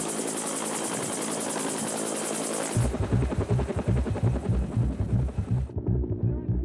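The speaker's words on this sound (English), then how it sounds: "hauling concrete with helicopters" A helicopter hauling concrete for ski lift construction thumps its rotor in a fast, loud, steady rhythm, its high engine whine cutting out near the end.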